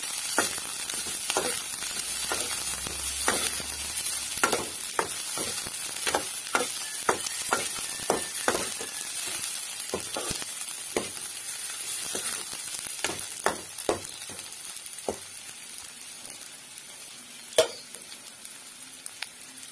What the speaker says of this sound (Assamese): তেল দিলোঁ, পকাই লৈ পিঁয়াজ দিলোঁ।